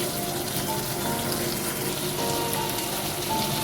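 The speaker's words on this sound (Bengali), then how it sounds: "চিংড়ি মাছ দিয়ে আবারও কিছুক্ষণ পুরোটা কষিয়ে দিচ্ছি" Prawns and taro root sizzle and hiss steadily in a pan as a Bengali curry is stir-fried, a dense continuous crackle with no talk.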